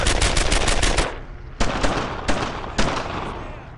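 Loud bursts of machine gun fire in the 2005 PC game Brothers in Arms: Earned in Blood, a rapid opening volley followed by several shorter bursts, close and harsh.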